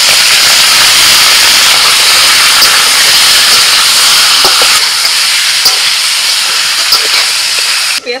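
Chicken pieces fry in a small amount of oil in a home kitchen pan, giving a loud, steady sizzle and hiss with scattered sharp pops and spatters throughout.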